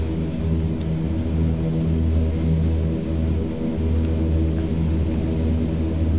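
An F7F Tigercat propeller airplane flies in a video game, drawing a steady, even engine drone that holds without break throughout.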